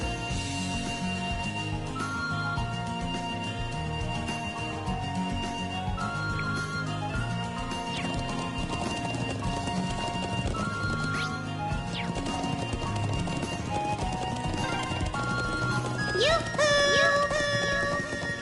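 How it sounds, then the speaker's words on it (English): Rapid clip-clopping horse hooves gallop steadily in the video game Trails of Cold Steel, over a dense musical game soundtrack, with a brief high chime near the end. "Super fast horse."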